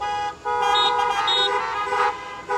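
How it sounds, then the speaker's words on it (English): Several car horns honk together at a Sunday worship service at St John Evangelical Lutheran Church, sustained overlapping tones lasting about two and a half seconds with a brief dip near the start. "We share the peace with one another today by honking our horns"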